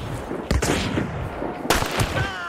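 Gunshots in Hunt: Showdown PvP combat: two loud, sharp reports about a second apart over a rumbling, noisy game background, each with a brief echoing tail.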